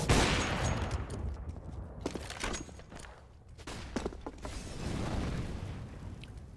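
Counter-Strike gunfire during an academy-league match, with bursts of sharp rifle shots and rapid automatic fire popping in clusters over steady background game noise.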